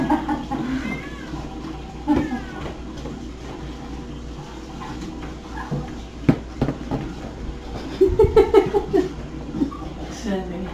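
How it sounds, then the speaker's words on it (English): A cat meows a few times amid scattered voices and bustle, with a quick run of short mews near the end. "You're being chased by a cat."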